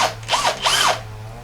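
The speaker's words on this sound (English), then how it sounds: "I'm gonna make the marking in the middle here and then drill it straight" Power drill boring into a wooden cabinet door, a short burst of two rising-and-falling whines over about a second, close and clear with no talk.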